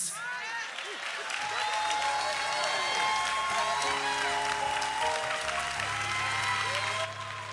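Applause and cheering from an audience at a university debate team event, continuous clapping with whoops and voices mixed in, plus sustained tones underneath.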